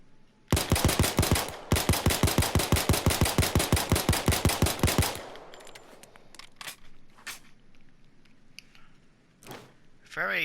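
Beretta 92 (Bernetti 9) pistol fired in Payday 2, a rapid string of about two dozen sharp, loud shots in two bursts, followed by quieter clicks and handling noises.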